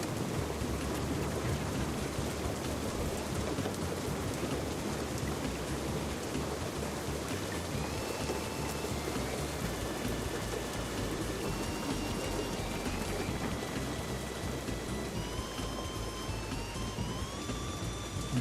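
Steady heavy rain with a distant thunderstorm fills the whole stretch, dense constant patter at a fairly loud level, with faint soft melodic tones drifting in over it.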